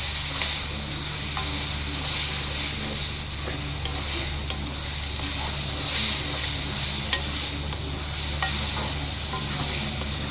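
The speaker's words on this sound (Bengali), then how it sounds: "বটবটি আর ক্যাপসিকাম গুলো ভেজে নিব একটু তেলে।" Bell peppers and capsicum frying in a little oil for chowmein, with a steady close sizzle and occasional stirring scrapes running the whole time, no talk.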